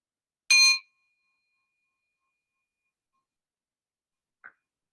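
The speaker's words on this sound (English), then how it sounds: "open your eyes only when you hear the last remaining sounds of the bell" A single bright bell strike rings out and fades into a long, thin sustain. A brief, faint chime sounds a few seconds later.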